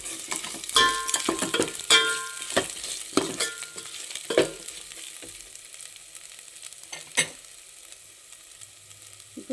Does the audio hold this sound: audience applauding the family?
no